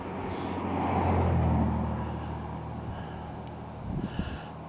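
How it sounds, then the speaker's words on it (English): Road traffic passing along a highway by a river at Horseshoe Bend on Chinook Pass, a broad rumble of cars and trucks swelling and fading over a few seconds, fairly close and steady, with a brief louder burst near the end. "There's a lot of traffic decided to go by right when I started talking."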